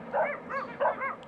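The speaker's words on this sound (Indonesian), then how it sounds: "Tiba-tiba terdengar suara lolongan anjing dari 4 penjuru mata angin." Dogs howl and yelp in a ghost story, four overlapping wavering cries rising and falling in quick succession, fairly close and clear with no talking.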